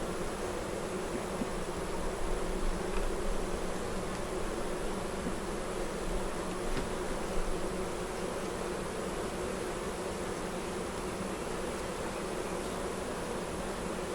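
Honey bees buzzing around an open brood box frame during a hive inspection, a steady close hum that holds evenly throughout with no speech.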